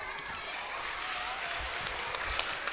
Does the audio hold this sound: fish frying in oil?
no